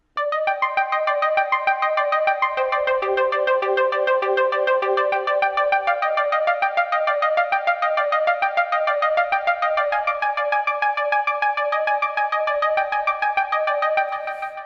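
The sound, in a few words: synth arpeggio made on Maschine Micro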